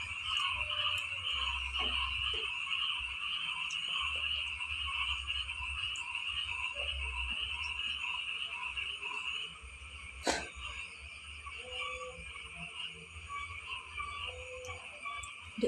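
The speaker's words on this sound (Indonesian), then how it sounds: "baru buka terus tonton berhasil pemirsa malah kodok-kodok tuh nyanyi." Frogs croak steadily through a night scene, a dense continuous chorus near and far with a sharp knock or click partway through and no talking.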